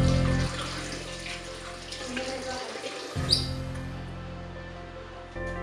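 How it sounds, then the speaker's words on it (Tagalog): Tap water runs steadily in a home bathroom in the morning, a continuous broadband rush that cuts off briefly midway and then resumes. No one speaks over it. "Pupusan ko ng tubig, Taro!"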